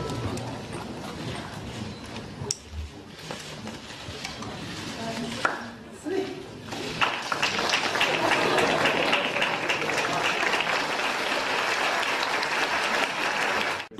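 An excited crowd greets a passing president in a town street, a building roar of applause and cheering that swells loud and dense in the second half, following an earlier stretch of voices.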